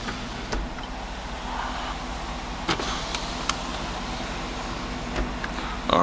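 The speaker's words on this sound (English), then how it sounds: "let's go to put down the windows because we got some pretty dark tints here" Electric power windows lowering on a 2007 Cadillac Escalade ESV AWD, a steady low motor whir inside the cabin with a few small clicks and thumps, no talking.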